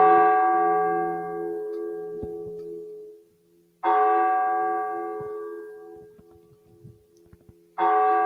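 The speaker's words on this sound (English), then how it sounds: "The bells ring in midnight" A church bell tolls midnight in a school play, three loud clear strikes spaced about four seconds apart, each ringing tone decaying slowly toward silence.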